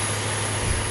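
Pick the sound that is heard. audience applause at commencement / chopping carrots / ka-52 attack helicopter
ka-52 attack helicopter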